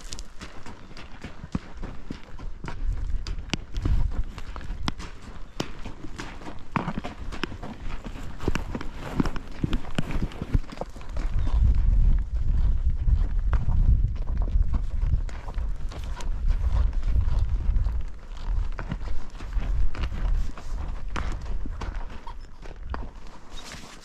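Horse hooves clip-clop along a trail in a continuous uneven rhythm, close and fairly loud, with rustling and low rumbling under the steps throughout.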